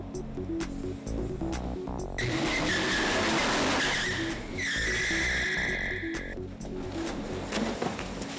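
A car's tires, sprayed with WD-40 to make white smoke, spin and squeal loudly over a revving engine during a freeway car chase stunt, with two long screeching bursts between engine roar.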